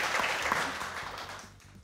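Studio audience on a Pakistani TV cricket show applauding, a dense wash of clapping that stays steady for most of the moment, then thins and fades toward the end.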